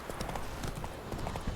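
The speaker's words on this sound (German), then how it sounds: "Jetzt reiten wir auf voller Galopp." A horse gallops in the video game The Witcher 3, rapid rhythmic hoofbeats drumming steadily at a quiet level over a low game background.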